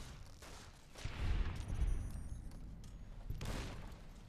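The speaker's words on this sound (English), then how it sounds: "There's an explosion." Explosions and gunfire-like blasts from the video game Fallout New Vegas, with a heavy low boom swelling around the middle and another burst near the end over a steady background rumble.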